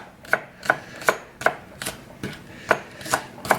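Knife chopping green onions on a cutting board, about nine sharp, evenly spaced thuds in a steady rhythm, close and clear with no talk.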